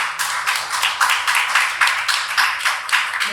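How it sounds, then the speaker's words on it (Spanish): Audience applause at a poetry book presentation, a steady wash of many hands clapping close and loud with rhythmic surges throughout, no voices over it. "pido a todos ustedes un gran aplauso en este momento."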